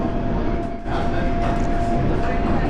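A Class 455 electric train rumbles steadily along the rails, a constant close roar with a faint whine and a brief dip in the noise early on.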